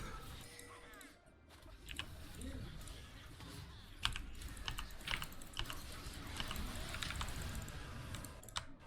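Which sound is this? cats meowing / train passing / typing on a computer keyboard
typing on a computer keyboard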